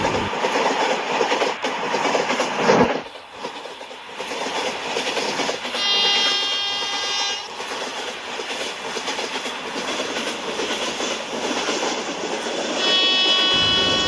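In a 3D train game, the August Kranti Rajdhani Express rolls through New Delhi with a steady, loud rumble and rail clatter, and sustained horn blasts sound midway and again near the end.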